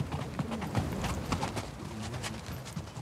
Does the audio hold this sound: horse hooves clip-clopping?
yes